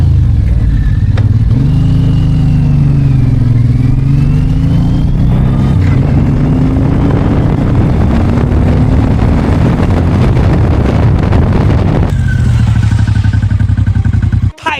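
A Suzuki M109R cruiser motorcycle on a test ride after engine repairs: a loud, close engine drone that rises and falls in pitch as it accelerates and shifts, with the sound changing abruptly near the end.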